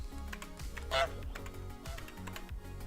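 An on-screen desktop goose program lets out a single honk amid the quiet clicks of a computer keyboard and a low hum during a video-editing session.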